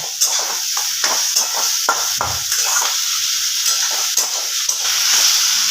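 Ginger garlic paste and chopped green chillies fry in a pan with a loud, continuous sizzling hiss, broken by repeated sharp scrapes and taps of a spoon stirring against the metal.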